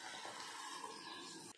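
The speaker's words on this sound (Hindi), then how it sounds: "पानी डाल देंगे," Water poured into a cooking pot holding bottle gourd, lentils and fried spices for a simple Indian lunch, a steady close splashing hiss lasting just under two seconds before cutting off.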